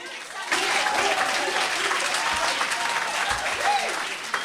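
Audience applause at a poetry jam, a dense burst of clapping that starts abruptly and holds steady at close range for several seconds before thinning out.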